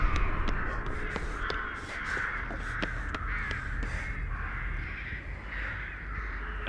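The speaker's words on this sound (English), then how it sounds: "a bunch of crows just endlessly flying in the main temple building" Crows caw over and over inside a temple building in Dead by Daylight, a string of harsh, rhythmic calls at moderate volume with sharp clicks scattered between them and no talking.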